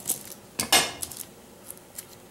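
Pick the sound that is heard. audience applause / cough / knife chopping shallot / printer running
knife chopping shallot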